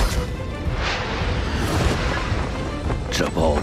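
An explosion in the Chinese animated series Soul Land 2 lets out a loud, sustained rumbling roar of broadband noise lasting several seconds, with voices heard over it.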